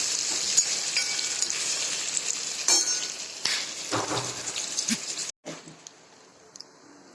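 Chopped onions frying in a pan, a steady close sizzle with occasional stirring scrapes and clinks, then a brief hush before the sizzle quietly resumes.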